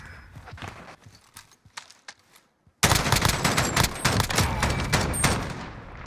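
Gunshots in a competitive esports shooter match, with scattered shots and footsteps first, a brief lull, then loud sustained bursts of rapid fire that keep going to the end.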